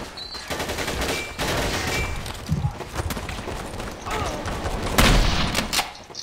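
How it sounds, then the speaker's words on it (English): Rapid sniper and gunfire shots from the online shooter game Rush Team, with bursts and booms coming loud and irregular over steady game noise, one especially strong blast near the end. "Dang it, someone's sniping."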